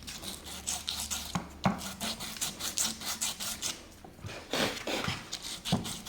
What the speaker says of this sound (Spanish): Si tenemos papel de lija, aprovechamos para limarlo y arreglar un poquito las imperfecciones